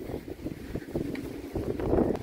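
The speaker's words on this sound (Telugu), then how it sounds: "సో గాలి అయితే విపరీతం అండి ఇక్కడంతా" Strong wind blows on a hill trek near Pushkar on the way to the Savitri Mata Temple, a steady low, rushing roar with gusts that swell toward the end, buffeting the microphone; no one speaks.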